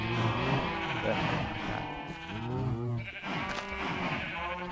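Sheep in a Minecraft-style block game bleat over a busy layered soundtrack, the wavering calls standing out near and fairly loud against steady background sound.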